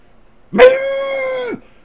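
A single dog gives one sustained, tonal howl-like bark lasting about a second, loud and close, alone against a quiet background.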